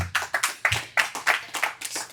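A church congregation claps in steady unison during a Sunday service, about eight sharp, evenly spaced hand claps in a brisk rhythm, fairly close and loud with no talking.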